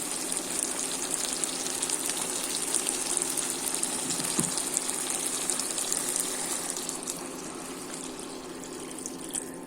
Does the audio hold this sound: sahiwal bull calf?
no